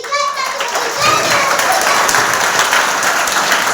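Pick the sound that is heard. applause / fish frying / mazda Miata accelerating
applause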